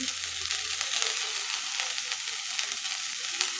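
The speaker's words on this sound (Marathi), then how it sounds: "आता हे सर्व साहित्य आहे ते आपण दोन ते तीन मिनिट छान परतून घ्यायचे आहेत" Spiced sandge, lentil dumplings seasoned with garam masala, chilli powder and chopped coriander, sauté in a pan with a steady, close frying sizzle and a few faint stirring sounds.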